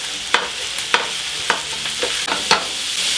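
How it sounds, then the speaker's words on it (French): Ground meat browns in a hot pan with onions and peppers, hissing steadily while a utensil taps and scrapes the pan about every half second. No one talks. "le but c'est de faire revenir la viande"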